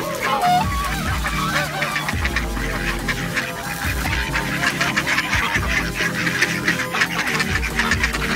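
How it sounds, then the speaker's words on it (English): Ducks and geese on a lake honk and quack noisily as they are fed bread, with overlapping calls close by and continuous outdoor background noise. "Now we're just feeding the ducks the last of our bread"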